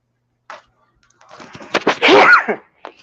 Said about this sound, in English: I sneezed. I'm sorry.